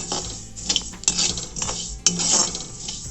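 Shahi jeera spices are dry-roasted and stirred in a pan for Solapur-style spicy masala, producing close metallic scraping and clinking of a spoon against the pan with a few sharper knocks.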